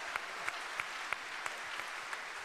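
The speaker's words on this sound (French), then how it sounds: "On peut l'applaudir" A crowd at a large political rally applauds steadily with a few sharper claps standing out, heard from a distance and fairly faint, with no talk.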